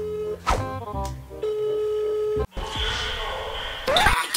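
A phone call that goes unanswered: a string of electronic ringing and signal tones in the first half, then a sudden cut to a noisier stretch with rustling and a sharp sound near the end.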